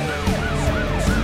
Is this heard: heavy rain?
no